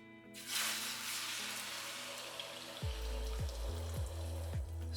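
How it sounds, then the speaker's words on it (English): Eggs hit hot olive oil in a pan for Cantonese scrambled eggs with shrimp, a broad steady sizzle over a low hum, with a few clunks and scrapes of the pan near the end. "Next, we're going to add just a little bit more olive oil. Then we're going to add the egg."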